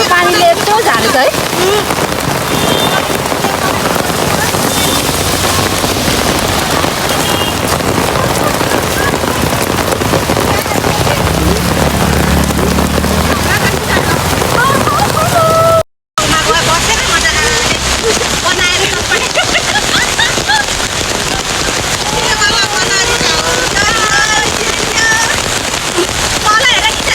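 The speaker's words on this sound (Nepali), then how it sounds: "अहिलेको पानीले यस्तो झारेछ है" Heavy monsoon rain hammers down outdoors in a loud, dense, unbroken roar of close drops, interrupted by a single brief dropout midway, with a voice speaking faintly at times beneath it.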